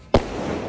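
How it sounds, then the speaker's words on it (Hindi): A Coronation 10-shot firecracker bursts once with a sharp, loud bang, followed by a long, rumbling decay of noise as it explodes high overhead. "तो भाई अभी हम चलाएंगे कोरोनेशन का 10 का दम, खतरनाक पटाखा भाई, ये बहुत ऊपर फटता है।"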